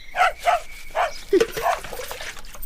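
A household dog gives a few sharp, close barks in quick succession, with a person's voice heard around them.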